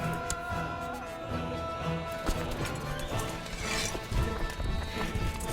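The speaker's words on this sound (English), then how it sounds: "The impatient stomping of horses accompanies the excited cries from the spectators." Horses stomp and clatter in a medieval tournament scene from the strategy game Crusader Kings 2, a busy layered game soundscape of hoofbeats and crowd noise with scattered thumps over steady background music.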